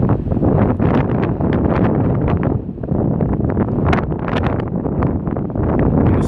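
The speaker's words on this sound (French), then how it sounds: "ce vent de nord-ouest qui souffle modérément, même parfois fortement en termes de rafale de vent maximale" Strong northwest wind in the Corbières massif, Aude, roars continuously in winter, buffeting the microphone with loud, rough gusts and no pauses.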